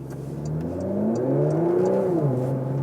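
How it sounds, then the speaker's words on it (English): A 2022 Porsche Macan GTS facelift's V6 engine revs close by. Its smooth, rising growl climbs and then eases back over a few seconds, with a faint ticking above it and no voices. "Blop, blop, blop. That V6"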